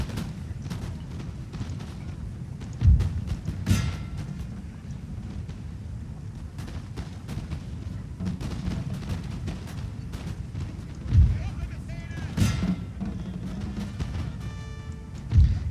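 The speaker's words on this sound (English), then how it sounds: "maintaining volley fire my musketeers against his fusiliers" Musket volleys crack in a Napoleonic battle game, 1805 European Campaign: a few distinct bursts stand out over a steady, windy battlefield rumble while a voice talks over much of it.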